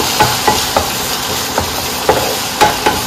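Food fries in a pan with a strong, steady sizzle, punctuated by regular sharp taps and scrapes of stirring.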